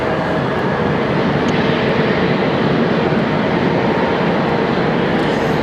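Airliner jet engines rumbling at Raleigh Durham International Airport as a Delta 737 and a Frontier jet wait to line up for departure, a steady broad roar that holds even and loud throughout.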